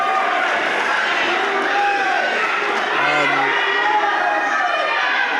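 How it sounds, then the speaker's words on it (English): Excited crowd noise at a professional wrestling event fills the arena, a dense, continuous roar of cheering and chatter that stays loud throughout, with a few brief shouts rising above the mass. "the crowd seems to be very excited about it"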